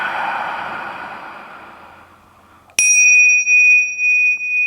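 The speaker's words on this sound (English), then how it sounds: "I like to always start my practices with a sound of the chimes" Chimes rung at the start of a yoga practice: a bright, sharp metallic strike midway, after an exhale-like breathy rush, ringing on with a sustained clear tone that pulses and slowly fades, loud and alone.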